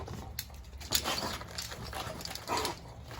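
A muscular, heavily built dog makes low whimpering and grumbling vocal sounds close by, with a few short yips standing out over steady background noise.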